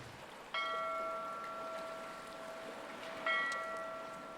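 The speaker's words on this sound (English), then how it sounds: "Ring that bell." A bell on a path lined with messages on a fence is struck twice, about three seconds apart, each clear metallic tone ringing out and slowly fading over a soft outdoor hiss.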